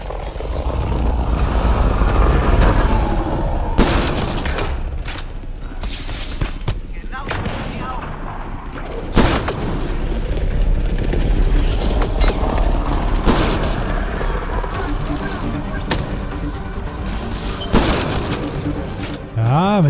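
Mass Effect Andromeda gunfire on PS4 Pro: repeated bursts of shots and booms over a loud, busy game soundscape, with a voice talking intermittently underneath.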